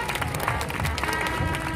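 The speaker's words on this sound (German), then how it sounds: "Schönen Applaus für die Damen und Herren." Steady applause and crowd noise fill the air along the street at the Cannstatter Volksfest procession in Stuttgart, a dense continuous clatter of clapping with a lively crowd murmur.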